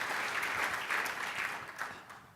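Audience applause at a business conference wrap-up, a brief burst of steady clapping from the crowd, fairly faint and even.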